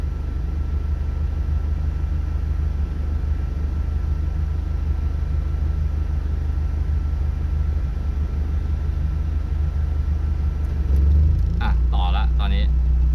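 An old car's engine runs with a constant low hum while its faulty air conditioning is tested; near the end the revs swing up slightly and a brief clicking rattle appears as the AC compressor cuts in and out.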